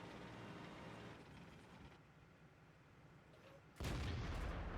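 An E50 tank's main gun fires once in World of Tanks, a sudden loud boom near the end after a stretch of quieter engine and mechanical rumble.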